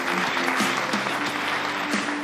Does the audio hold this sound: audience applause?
yes